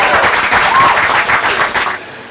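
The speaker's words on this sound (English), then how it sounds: "Give us some applause." Crowd applause at Steve Carell's Hollywood Walk of Fame star ceremony, a loud, dense burst of many hands clapping that holds steady for about two seconds, then drops away.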